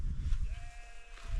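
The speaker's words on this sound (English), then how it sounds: "There's loads of sheep around here." Sheep bleat on the open fell of Crinkle Crags in windy conditions, a couple of drawn-out calls rising over steady gusting wind noise, fairly distant and moderately loud.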